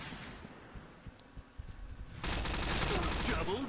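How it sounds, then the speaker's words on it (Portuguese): Gunfire in the Point Blank shooter, with scattered quieter shots followed by a sudden loud burst of rapid automatic fire in the final second and a half. "Alguém atirou aqui."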